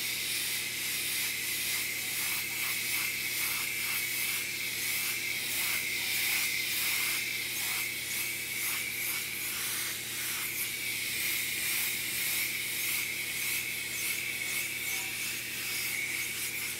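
An airbrush sprays paint onto a quarter-scale Aquaman figure, a steady close hiss broken by rhythmic pulses as the trigger is worked, over a constant low compressor hum.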